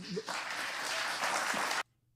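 Applause from a crowd at a Chicago City Hall gathering, a short burst of steady, fairly distant clapping that cuts off abruptly after under two seconds, with a brief voice at the start.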